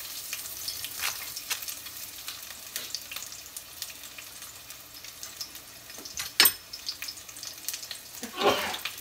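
Lemongrass, ginger and garlic sizzling in hot oil for goat stew, a soft steady fry with occasional stirring scrapes and two sharper clatters near the end.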